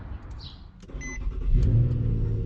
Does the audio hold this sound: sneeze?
no